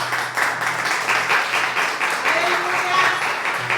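A church congregation applauds in praise during a Portuguese-language service, with steady overlapping clapping of moderate loudness, and voices can be heard among the crowd.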